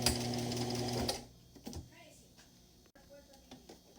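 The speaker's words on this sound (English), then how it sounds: "I'm going to back stitch since I am at the very end of my project." A sewing machine back stitches a pillowcase, running loud and steady for about a second before stopping, followed by faint handling sounds.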